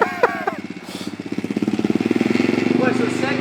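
Dirt bike engine revving with a steady pulsing rhythm that climbs as the rider shifts into second gear, close and loud, with a voice speaking briefly at the start.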